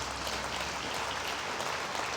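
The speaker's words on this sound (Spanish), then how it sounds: "Dale fuerte el aplauso al Señor." A church congregation applauds in a sustained, dense wash of clapping that holds steady throughout, fairly quiet and with no voices over it.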